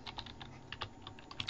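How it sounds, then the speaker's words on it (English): Quiet, rapid keystrokes on a computer keyboard form a soft, uneven clatter of clicks with no voices, as a short phrase is typed. "So I type in the words good job"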